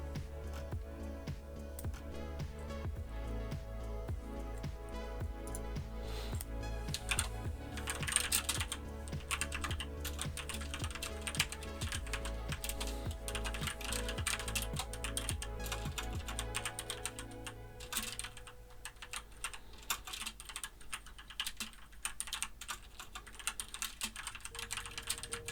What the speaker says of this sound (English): Wow, typing a tweet is really loud.